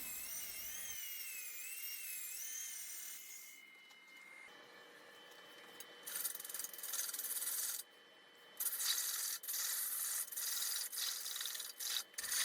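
Sandpaper rubs against a wooden burl piece on a lathe, a quiet steady rasping that shifts in texture, with breaks and brief pauses between passes and no talk.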